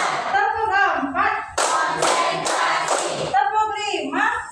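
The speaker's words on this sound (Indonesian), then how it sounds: "Tepuk 1, tepuk 2, tepuk 3," A class of children claps in a rhythmic counting chant, sharp bursts of hand claps between stretches of group chanting voices, close and loud.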